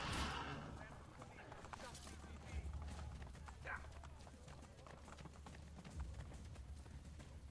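Horse hooves clip-clop in Assassin's Creed: Brotherhood, a steady run of soft hoof beats set against a constant low in-game rumble, with a faint cry near the start.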